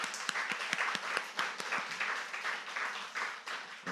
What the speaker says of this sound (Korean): 두 사람 잠깐 일어나고 박수로 한번 환영해 줍시다